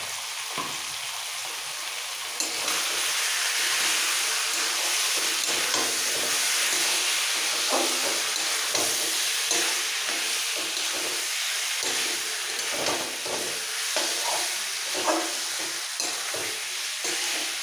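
Chicken and vegetables for a curry braising in a hot pan, with a steady loud sizzle and hiss, frequent stirring scrapes and clinks all the way through, and no talking.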